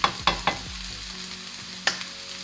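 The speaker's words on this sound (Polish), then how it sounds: "cebulka już mi się tutaj ładnie podsmażyła" Onions frying in a pan for a wild mushroom paste, with a few sharp stirring scrapes and clicks over a steady, close sizzle.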